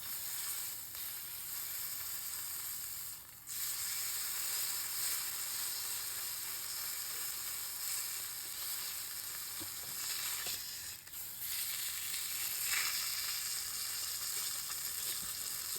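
Beef browns in a hot pan for a barbacoa-style shredded beef, giving a steady, close, dense sizzle throughout with a few brief dips and no talking.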